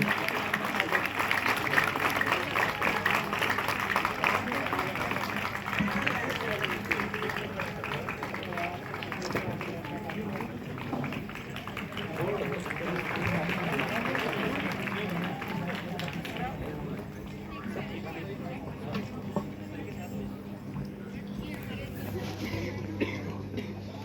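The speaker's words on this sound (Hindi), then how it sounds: "कृपया जोरदार तालियां हो जाएं जी" Audience at an International Day of Persons with Disabilities celebration applauding during a lamp-lighting ceremony, a sustained wash of clapping and crowd murmur at moderate distance, fading gradually with some talk beneath.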